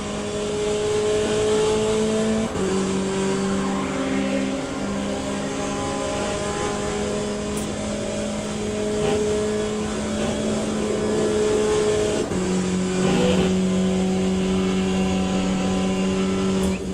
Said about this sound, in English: These hypercars are coming.